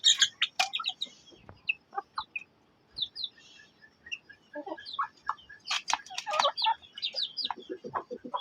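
Backyard chickens kept at home cluck and chirp in a lively, irregular run of close calls that build into a busier chorus, with no talking.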